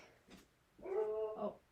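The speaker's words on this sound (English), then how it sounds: "I have no idea what she's barking at now." A dog gives a short, soft vocalization, a faint yip followed by a whiny, tonal bark-like whimper, close by in a quiet indoor room.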